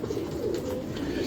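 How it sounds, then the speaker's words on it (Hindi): Pigeon of a prized breed in a loft, giving a low soft coo that rolls continuously at close range. "अब आपको हम ये कबूतर दिखा रहे हैं।"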